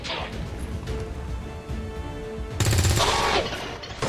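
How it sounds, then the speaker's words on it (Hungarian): A soldier's gunshot in the video game XCOM 2 erupts as a loud crashing burst of fire in the latter half, after a stretch of quieter game ambience and hum. "A Brittany lövése egyszerűen gyönyörű volt."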